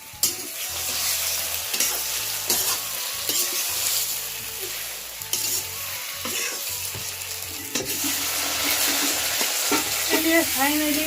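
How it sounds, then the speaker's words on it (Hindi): Mustard seeds and taro leaf pieces sizzle and crackle in hot oil for a tempering, a steady close frying hiss with sharp pops and occasional stirring scrapes, no talking. "अभी उस पर छौंका लगाएंगे, तड़का मारेंगे राई का"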